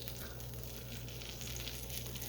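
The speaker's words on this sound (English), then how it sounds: "I can hear it sizzling" Melted butter spread over hot buttermilk biscuits in a pan gives a faint, steady sizzle and crackle, soft and continuous over a low background hum.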